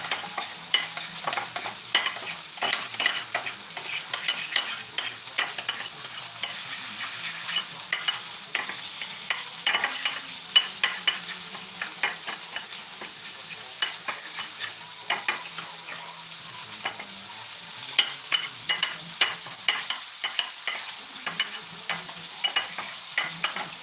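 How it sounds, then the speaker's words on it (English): A utensil stirs a sriracha sauce mixture, giving a long run of quick scraping clicks and taps over a soft, steady background with no voices. "A little bit of sriracha sauce. Stir that together."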